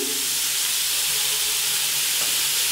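Kebab sizzles and fries in a pan on a stovetop, a steady close hiss and crackle of oil and steam running unbroken throughout with no voices.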